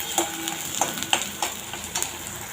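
Onion sautés in oil with fennel seeds, giving a soft background sizzle punctuated by a quick series of sharp stirring clicks and taps from a spoon against the pan.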